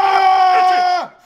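A group of people shouts and screams together for a camera, one loud sustained yell lasting about a second before cutting off abruptly.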